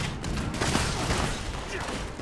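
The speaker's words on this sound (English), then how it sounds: "I think that's a Tesla cannon he's using there" A Tesla cannon firing at robots in a video game, a short burst of dense crackling blasts and booms up close.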